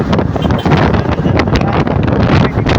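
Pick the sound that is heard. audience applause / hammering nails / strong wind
strong wind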